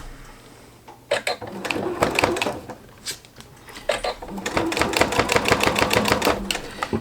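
A sewing machine with a lengthened stitch of about 3 runs along the edge of a jelly roll rug, stitching in short bursts, then a longer steady run of fast rhythmic needle clatter close by, with no one talking.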